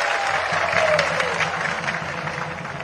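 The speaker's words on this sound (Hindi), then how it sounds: "पूर्णिया के नौजवानों के लिए ताली बजाता हूं" A crowd claps for local youth at an NDA political rally in Purnia, with steady, noisy applause running the whole time at a fairly loud, even level.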